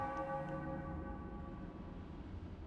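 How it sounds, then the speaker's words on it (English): A ritual bell in the video game Baldur's Gate 2 rings out with a sustained, shimmering metallic tone that slowly fades, heard alone with no talking. "We ring the bell twice"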